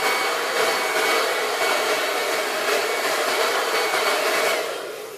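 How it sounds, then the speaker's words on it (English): A blow dryer runs continuously close up, drying a mixed media artwork with a steady loud whooshing roar that eases off slightly at the very end. "We'll take the blow dryer real quick."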